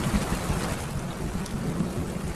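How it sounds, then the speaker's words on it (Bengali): Steady, dense rain falls outside at night, an even wash of hiss with low rumbling beneath, continuous throughout and without voices. "বাইরে ক্রমাগত বৃষ্টি চলছে।"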